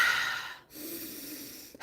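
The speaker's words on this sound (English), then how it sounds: "it's breathing where you breathe in like this" A single long, deep breath drawn in through the nose during a breathwork session, an airy close-up snorting inhale lasting over a second, followed by a softer breathy continuation, with no talking.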